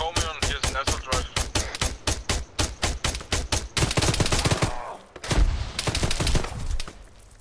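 Gunfire in the Arma 3 video game, mostly rapid automatic bursts in a fast regular rhythm, followed by a denser, overlapping volley, loud and close, with a short gap in the middle.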